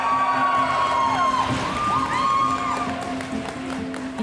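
A crowd cheering at a game on a community ice rink in a Canadian First Nations community, a steady roar of voices with tonal whistling calls rising over the noise throughout.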